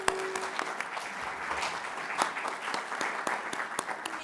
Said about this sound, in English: So please, a round of applause for Lynn Novak.